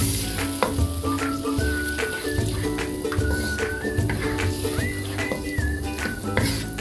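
Tilapia in coconut cream sizzles and bubbles steadily in a pan, with a continuous close frying hiss, scattered utensil taps and background music running throughout.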